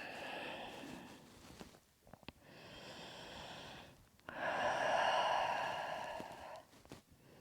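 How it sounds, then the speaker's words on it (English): Slow, deep breaths during a yoga session, each long airy inhale and exhale rising and falling close to the listener, separated by brief quiet gaps, with no talking. "Nice deep breaths."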